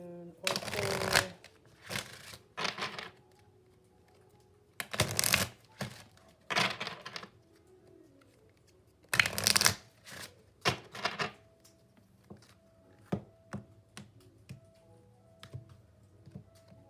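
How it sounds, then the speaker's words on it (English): Oracle cards are shuffled in repeated riffling bursts, each crisp flurry a second or so long, separated by pauses with softer taps and clicks of cards being handled. "I also want to pull a Queen of the Moon oracle."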